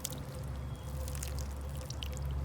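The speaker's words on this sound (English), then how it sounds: "So why don't I just give a little water to these little baby flower plants here" Water poured from a can onto young flower seedlings in a garden, a steady soft splashing trickle that holds at an even level across the whole moment, close and alone.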